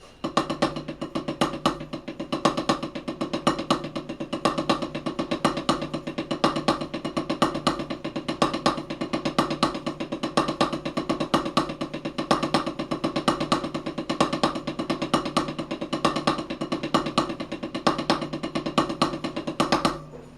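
A drum kit plays triple paradiddles with accents on the upbeats, a dense, even stream of rapid strokes running steadily for about twenty seconds without talk.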